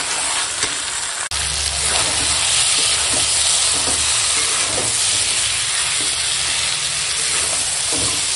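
Mutton with green chili and tomato sautés in a pan, giving a loud, continuous sizzle with rhythmic scraping from stirring and a brief knock near the start.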